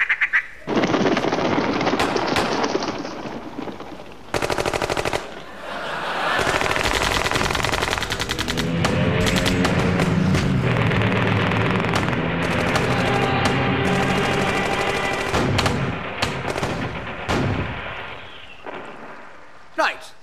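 Rapid bursts of gunfire crackle at a grouse shooting party, dense volleys repeating over about twenty seconds with a brief lull, while voices speak over the shots.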